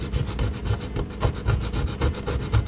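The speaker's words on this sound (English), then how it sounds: "I'm scraping our rug that melted onto our hardwood floors off." Scraping melted rug residue off a hardwood floor: steady rhythmic rasping strokes, close and fairly loud, repeating roughly every half second with no talking.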